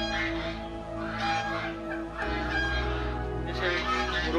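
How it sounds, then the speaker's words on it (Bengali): Red American Silkie chickens at a bird farm in Agartala, with steady overlapping clucks and honk-like fowl calls close by, continuous throughout with no talking. "এইগুলা, এগুলো হচ্ছে রেড আমেরিকান সিল্কি।"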